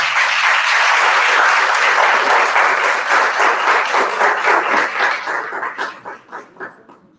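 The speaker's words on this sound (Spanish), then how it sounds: "nosotros aquí que recibimos con un fuerte aplauso" Loud audience applause rolls steadily, then thins out into a few scattered claps before fading to silence.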